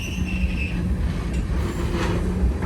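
A Norfolk Southern freight train rolls past hauling tank cars and covered hoppers just out of storage, a steady loud rumble with faint wheel squeal and rail noise, close by and without talk.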